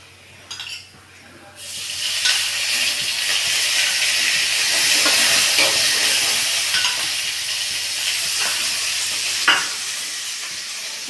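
Onion, tamarind and fresh coconut fry in oil in a pan for chutney, a loud, steady sizzling hiss that swells after an opening stir and keeps going with faint scraping.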